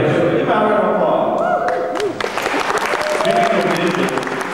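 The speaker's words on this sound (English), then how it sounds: "Give a round of applause." Audience applause and scattered clapping greet a surprise guest at a live event, a steady crowd roar continuing throughout with faint voices mixed in.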